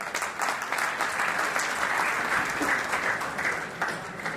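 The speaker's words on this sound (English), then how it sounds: "please give him a huge round of applause" Loud, sustained applause from a conference audience fills the whole stretch, a dense steady wash of clapping with no pauses.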